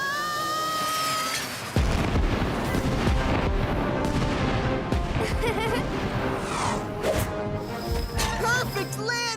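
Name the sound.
fireworks exploding, cartoon sound effect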